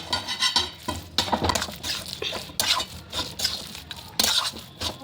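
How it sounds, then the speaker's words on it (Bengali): A spoon scrapes and clinks in a pan as a vegetable chop mixture with breadcrumbs is stirred, giving close, irregular rhythmic strokes with no talking. "এটাকে ভালো করে নাড়িয়ে চাড়িয়ে আমি গ্যাসটাকে অফ করে দেব"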